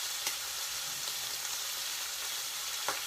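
Thick cut bacon sizzles steadily in a pan, a dense hissing fry with occasional sharp pops, close and even throughout with no voices.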